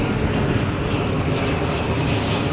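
A loud, steady roar of an airplane passing close overhead near an airport, broadband and continuous throughout.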